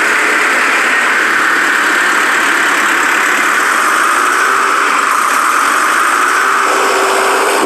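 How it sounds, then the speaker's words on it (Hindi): A finished tractor's engine runs steadily as a worker takes it out for a road test after assembly, a continuous close idling drone with faint mechanical knocking and no talk. "और एक वर्कर तैयार ट्रैक्टर को रोड टेस्ट के लिए ले जाता है।"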